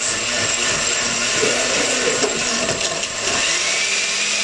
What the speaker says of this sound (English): So here we're going to put it in the blender.